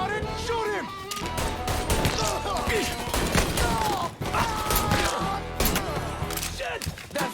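Rapid gunfire in the Mafia III video game, dense bursts of close shots and automatic fire repeating throughout amid impacts, with in-game voices talking over parts of it.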